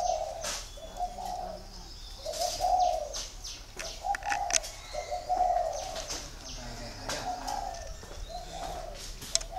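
Spotted doves at a breeding farm give repeated cooing phrases at a steady rhythm, fairly close, with light chirps and faint background noise between the calls.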